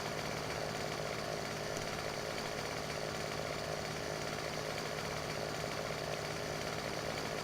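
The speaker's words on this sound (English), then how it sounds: "we'll go and take it down with our lovely chainsaw. Nice McCulloch chainsaw." A McCulloch chainsaw in Farming Simulator 17 runs at a steady, constant buzzing drone as a large tree is cut, faint and unbroken throughout with no talking.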